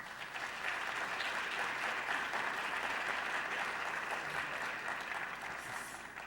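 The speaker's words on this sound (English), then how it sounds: "Will you join me in giving a round of applause to Bobby Paul?" Conference audience giving a sustained round of applause for a panel speaker, dense steady clapping filling a large hall, slowly tapering near the end.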